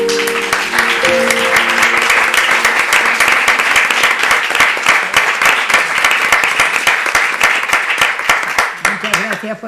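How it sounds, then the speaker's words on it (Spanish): Audience applause after a presentation at a PechaKucha event: loud, sustained clapping that runs for several seconds and thins out near the end, with a brief tonal sound at the start. "aplauso"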